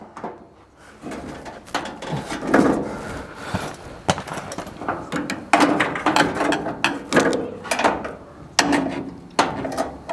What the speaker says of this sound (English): I can actually get the window to go up and down remotely